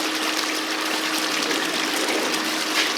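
Water gushes steadily through a gold sand processing plant, pumped at a full 1,100 gallons per minute. It makes a constant, dense rushing and trickling wash with no pauses and no talk.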